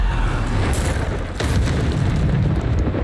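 Bombarda blasting spell going off in Hogwarts Legacy, a loud, rumbling boom with a sharp burst near the middle that sustains into a dense, continuous roar.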